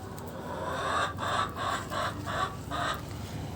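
Chickens in a poultry shed cluck in a steady series of short, repeated bursts, close and fairly clear over a low background hum.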